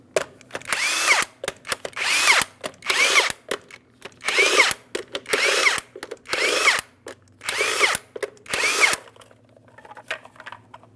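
A power tool spins a 22mm socket against the wheel center cover of a 2007-2014 GMC Sierra 2500 HD, in about eight sharp, loud whirring bursts with brief gaps between them.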